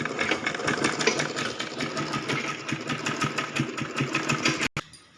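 Sewing machine stitching the fabric of an umbrella skirt, a steady fast mechanical whirring with rhythmic needle clatter, close and continuous, stopping abruptly near the end.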